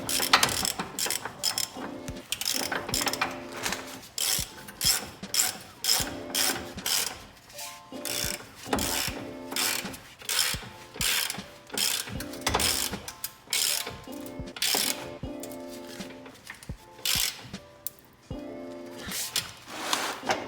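A ratchet wrench tightens bolts during front end work on a car, its rapid clicking bursts repeating in quick strokes with short pauses, close and loud throughout.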